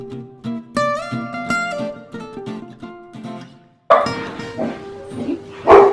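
Dogs bark in a series of loud, close, yappy bursts, with a brief pause before a second round of barking.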